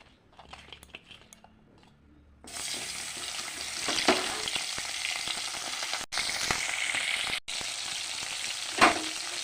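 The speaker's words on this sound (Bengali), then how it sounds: "প্রথমে আমি নুন হলুদ দিয়ে ট্যাংরা মাছগুলি ভেজে নেবো" Tangra fish frying in oil seasoned with salt and turmeric, a steady loud sizzle starting a couple of seconds in after quiet clatter, with brief dips and a few stirring knocks, no talking.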